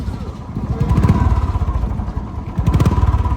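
A motorcycle engine runs steadily and loudly close by while the bike is ridden near Marpha in Mustang, its chugging drone unbroken throughout.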